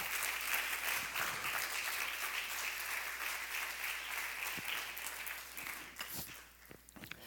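A church congregation applauding during a Spanish-language evening service, a steady dense wash of clapping that fades toward the end.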